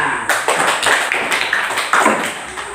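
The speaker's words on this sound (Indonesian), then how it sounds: "mari kita sambut kelompok Dede dengan tepukan tangan" Classroom group clapping to welcome a group of students, a close, uneven patter of hand claps with irregular louder bursts, continuing without speech.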